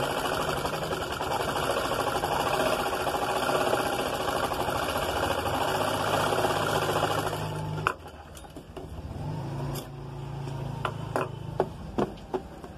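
A sewing machine stitches a blouse in a steady, fast mechanical whir, then stops briefly before running again in shorter, uneven bursts with a few clicks.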